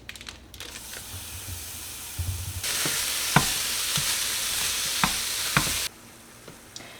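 Lean ground beef fries and is crumbled in a nonstick pan, giving a steady close sizzle with scraping and stirring clicks from a utensil, swelling louder in the middle before easing off.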